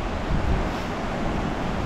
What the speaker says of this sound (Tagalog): itong rumaragasa na tubig na to